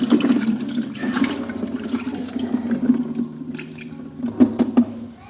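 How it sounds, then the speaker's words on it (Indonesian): An eco enzyme liquid mixture of organic matter is stirred in a container, giving a continuous sloshing, swirling water sound with a few louder splashes near the end. "Ini kita buka dan kita masukkan kembali, lalu kita aduk."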